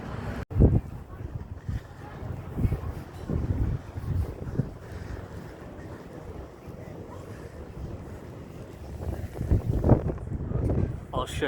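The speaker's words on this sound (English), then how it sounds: "It's very windy there in a cold day in Whitby today." Gusty wind blows across the microphone at Whitby harbour on a cold day, a continuous rumbling roar with stronger gusts near the start and end, and a voice speaks over parts of it.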